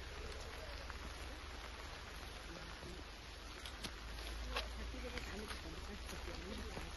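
Heavy rain pours outdoors during a monsoon picnic outing at Hakhe Tarii, a constant dense hiss of falling water with scattered sharper drips close by, steady throughout.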